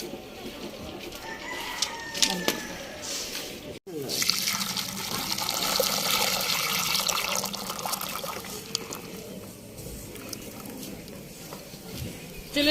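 Ingredients for rice pinni are washed under running water in a village kitchen, a steady splashing flow that fills most of the clip with a brief break, while roosters crow faintly in the background.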